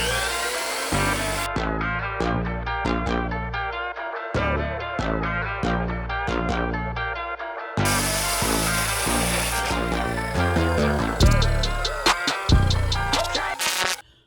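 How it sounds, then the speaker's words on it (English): Power drill boring holes in a metal intercooler plate for a 6.0 Power Stroke Mustang build, in repeated short whirring bursts with pauses between, loud and close. "I just got to drill 2 more here, and then 4 more"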